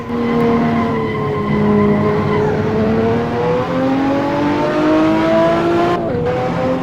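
A BMW race car in Assetto Corsa, its engine revving loud and close, pitch climbing through the gears and dropping on each shift, with faint tire squeal underneath.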